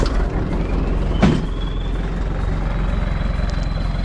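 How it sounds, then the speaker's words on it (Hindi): An offroad vehicle in first gear and low range starts and begins crawling forward, a loud, steady low engine drone with a brief knock near the start and a faint rising whine. "Just I am turning the key and it will start moving."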